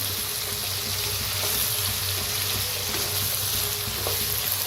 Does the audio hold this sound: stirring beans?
yes